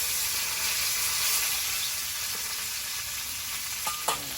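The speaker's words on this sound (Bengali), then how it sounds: "শুকনো লঙ্কা আর পাঁচফোড়ন দিয়ে উচ্ছেটা ভেজে নেব" Sliced bitter gourd fries in hot oil with dried red chillies and panch phoron, giving a loud, continuous close-up sizzle and hiss, with a couple of faint utensil taps near the end.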